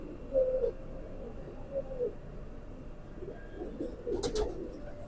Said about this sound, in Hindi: बहुत अच्छा कबूतर है ये माशाल्लाह